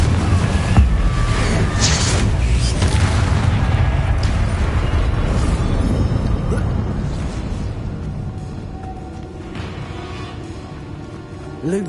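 Confringo fire spell blasts in the Hogwarts Legacy video game, a loud rumbling explosion with a sharp initial burst that stays dense and boomy, then gradually fades over several seconds.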